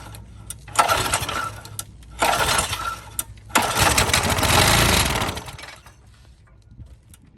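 After starter fluid is added, a weed trimmer mower's small engine gets three pull-cord attempts that each bring short sputtering bursts, then catches and runs roughly for a couple of seconds before fading. Nearby and loud, with no talking.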